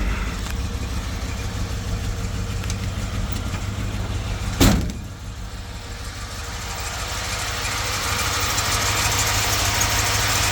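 A 1954 Chrysler New Yorker Deluxe engine idles steadily and close by, a smooth low rumble with one brief sharp knock or click midway before the idle settles and rises slightly.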